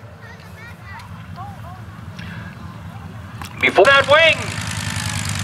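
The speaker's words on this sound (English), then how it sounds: "And that Kenner engine just kind of chugging away" A vintage airplane's Kinner engine chugs steadily at low idle in the background at an airshow, a continuous low rumble running beneath talk, with a louder burst of voices and sound near the end.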